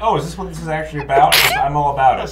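A single short, breathy sneeze bursts out partway through, close and loud, with a person talking continuously before and after it.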